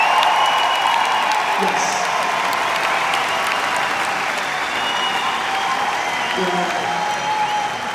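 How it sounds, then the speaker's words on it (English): A large arena concert audience claps and cheers continuously, a dense, even roar of applause and crowd noise sustained throughout, with a couple of brief voices over it. "I always wonder if you guys clap because I'm still here or I can get into my costumes."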